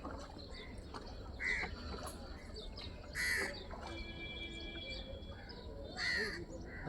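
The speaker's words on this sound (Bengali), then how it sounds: "এই পাখিগুলো দারুণ" Crows caw in three loud bursts spaced a couple of seconds apart, with other birds calling faintly over a steady outdoor background.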